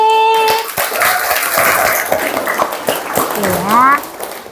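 A classroom gives a student a round of applause, a burst of many hands clapping together that fades as a voice talks over it.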